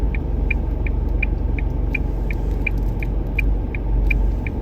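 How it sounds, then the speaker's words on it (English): A taxi drives past a stationary learner car at a Port Lincoln intersection, heard as a steady low road and engine rumble with a turn indicator ticking evenly throughout and a slight swell near the end. "Okay, taxi's coming through."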